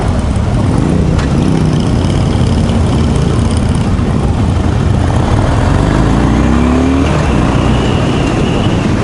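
A new roadster accelerates on a demo ride heading toward the interstate, its engine and road roar loud and close throughout, with a rising drone building near the end and no talk.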